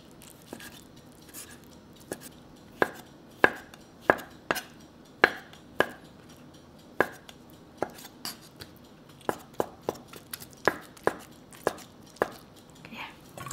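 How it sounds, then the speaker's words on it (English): A knife thinly slicing mushrooms on a cutting board, with a run of sharp, close taps at an uneven pace. No talking. "So mushrooms, let's cut it thinly."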